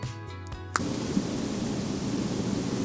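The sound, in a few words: white noise machine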